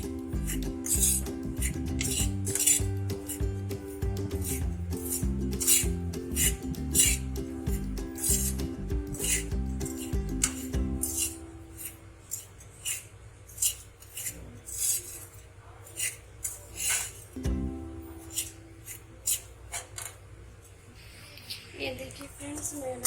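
Semolina (suji) dry-roasting in a pan for halwa, stirred with repeated scraping and rubbing strokes against the metal, the steady stirring continuing over a low background drone that fades about halfway through.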